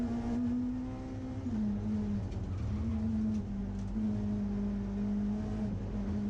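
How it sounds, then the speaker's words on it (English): Inside a Peugeot rally car lapping Brands Hatch, the engine drones loud and steady with close in-car tone, pitch dipping briefly at gear changes and climbing again. "Let's go on board for a final ride on the Peugeot."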